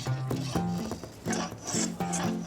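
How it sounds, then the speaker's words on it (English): A spokeshave pares wood from the neck of a fifty-year-old bass guitar in short, rhythmic rasping strokes, about eight close scrapes in quick succession with brief pauses between them, and no speech. "using a spoke shave until I start to come down below the surface and get into fresh wood."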